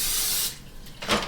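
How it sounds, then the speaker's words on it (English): Olive oil sprayed from a can into a measuring cup: a close, steady hiss for about half a second, then a shorter, fainter burst of spray a moment later, with no talk. "You spray it with a little bit of olive oil"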